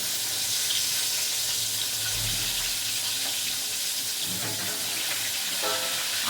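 Meat being rinsed under a running kitchen tap, a steady splash of water with a little clatter, close and continuous with no talk.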